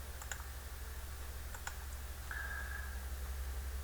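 Light mouse clicks sound at a computer while a SolidWorks turning drawing is made, several sharp ticks spaced irregularly over a low steady hum, with no talking.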